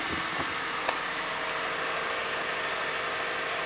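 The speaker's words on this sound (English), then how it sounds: "Here's the engine starting." A Honda Del Sol engine starts and then idles very quietly: a soft, steady hum under a constant hiss, with a short start-up burst at the beginning and no voices.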